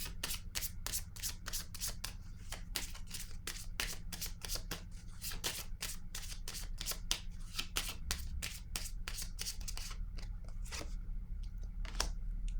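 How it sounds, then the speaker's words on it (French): Tarot cards being handled and shuffled close up, a long run of quick crisp riffling snaps and slides in an even rhythm, quiet and without speech. "Je vais déposer une carte sur la sagesse"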